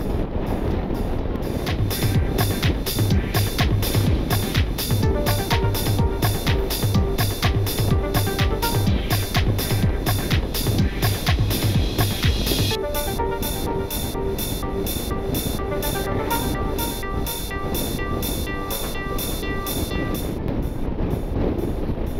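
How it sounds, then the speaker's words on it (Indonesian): Strong wind roars across a motorcycle on a coastal touring ride from Linau to Bengkulu along Sumatra's west road, beside a sea with high waves. It is a loud, constant broadband rush with buffeting and no speech. "Anginnya kencang banget."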